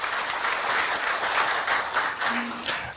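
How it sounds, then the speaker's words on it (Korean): Audience applause at a Korea University forum event, steady dense clapping from a hall full of people, sustained and fairly loud throughout with no talking over it. "박수 한번 부탁드릴까요?"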